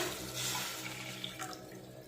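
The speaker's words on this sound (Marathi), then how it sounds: "आता याच कढईमध्ये 1 ग्लास भरून पाणी टाकूया" Water splashes steadily into a wok for a couple of seconds, a glassful poured in a continuous close pour with no voices.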